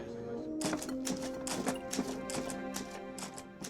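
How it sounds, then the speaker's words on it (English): Rapid, forceful typewriter keystrokes from a movie scene, a rhythm of sharp clacks across the whole clip, mixed with music and faint voices. "That's some aggressive typing."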